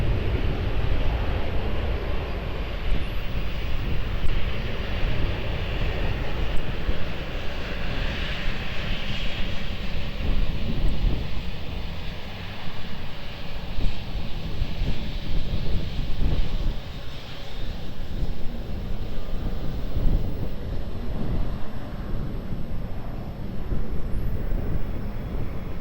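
A Ryanair airliner landing at Lisbon Airport gives a steady, broad jet roar mixed with wind buffeting on the microphone, holding a fairly even level for the whole stretch with no voices.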